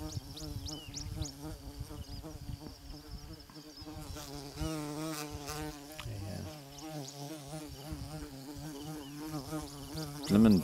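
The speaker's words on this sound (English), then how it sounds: "Yep, that is an insect buzzing around my head." A big bumblebee-like insect drones persistently near someone's head outdoors, its buzz swelling and fading in pitch as it circles close by, with a brief rustle and a louder burst at the end.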